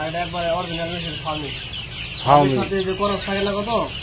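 Chickens cluck steadily inside a village poultry farm holding Sonali and Fayoumi birds, a dense flock of close, overlapping clucks with one sharper, louder call rising midway, while people talk underneath.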